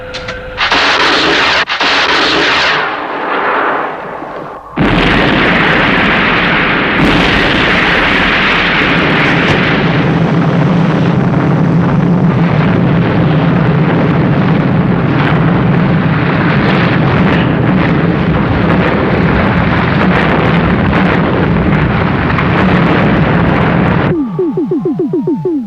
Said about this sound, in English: From mobile control, fire missiles,